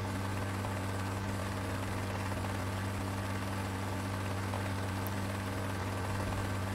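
Steady, continuous rotor and engine drone of a helicopter in flight in the video game Rising Storm 2, a low constant hum holding level throughout with no talk over it.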